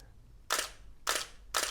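Three sharp mechanical SLR camera shutter clicks with mirror slap, evenly spaced about half a second apart, close and crisp against near silence.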